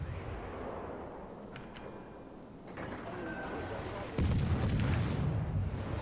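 Warship guns firing in World of Warships, a deep booming blast that opens into a loud sustained rumble after a stretch of quieter low battle noise and faint clicks.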